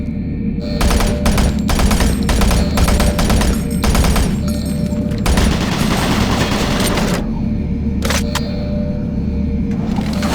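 Automated turret guns in the Doom 3 video game fire in loud, rapid clattering bursts, broken by brief gaps and a few sharp isolated shots, close and dominant.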